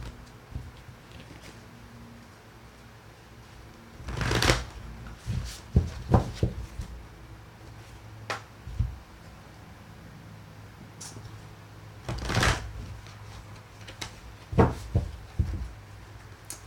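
A deck of tarot cards is handled and shuffled close by, giving two main riffling bursts with scattered lighter taps and rustles between them and no talk.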